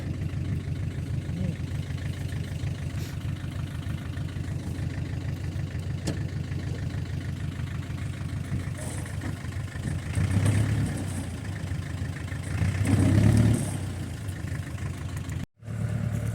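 A heavy Ch-4 diesel tractor engine drones steadily, straining and surging louder in two pushes as it hauls a log, then briefly cutting out near the end.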